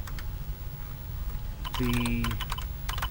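Quick bursts of keystrokes on a computer keyboard as an answer is typed into a vintage-style computer Jeopardy game, heard close up over a steady hum, with a short electronic tone in the middle.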